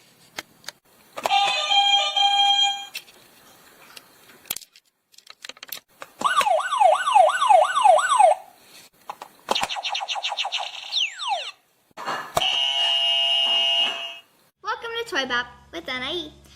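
A series of sound effects from Learning Resources answer buzzers, separated by silences: a beeping tone, a rapid warbling zap, descending laser-like sweeps, a flat buzz, and a chirpy trill.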